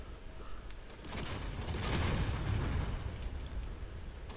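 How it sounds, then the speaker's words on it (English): Secondary explosions follow a Mirage 2000C bomb strike in the DCS combat flight game, heard as a dense, sustained rumbling roar that swells in the middle and carries scattered crackling pops throughout. "Oh yeah, and we have secondary explosions."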